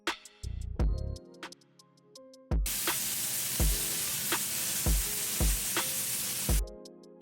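Lamb chops searing in a pan hiss steadily for several seconds, with regular rhythmic thumps throughout and a few beats of music before and after the sizzle.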